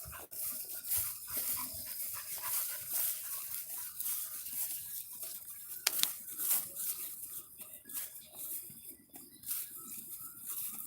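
A puppy pants and snuffles close by during a walk outdoors, quick irregular breaths with small whimpers and faint patter, no talking.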